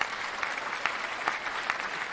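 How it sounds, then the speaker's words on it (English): A small audience claps for a few seconds, a soft, even patter of many hands at moderate distance, with a few louder individual claps standing out. "Let's give you a round of applause for that."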